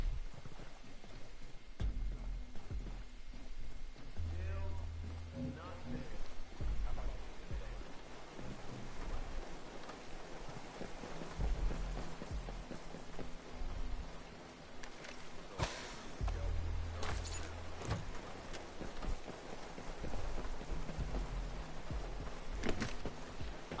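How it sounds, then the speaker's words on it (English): Steady rain in the Ghost Recon video game, a continuous broadband hiss of falling water running the whole time with low rumbles and a few sharper bursts, no talking over it. "I love the rain in this game."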